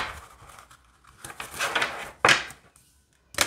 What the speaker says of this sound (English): All right, so let's shuffle these.